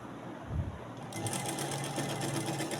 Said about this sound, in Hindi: इसी तरह इसको घुमाते हुए आपने यहीं से सिलाई स्टार्ट करनी है और पूरी राउंड के इधर नेक के इधर तक लेकर आनी है।